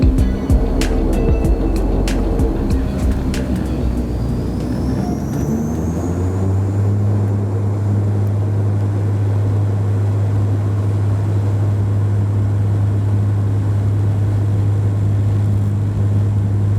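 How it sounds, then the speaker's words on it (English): A Wideroe Dash 8 turboprop airliner takes off, heard from inside the cabin as a loud, steady engine roar that builds and settles into a strong continuous drone, with some clicks early on. "And, well, here's the takeoff."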